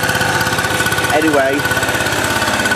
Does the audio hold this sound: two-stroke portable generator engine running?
yes